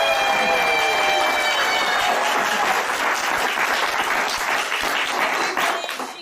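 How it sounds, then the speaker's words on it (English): Theater audience applauding at an improvised courtroom comedy show, a loud sustained round of clapping from a crowd that gradually thins out and fades at the end. "If you believe that this woman is guilty, please clap now."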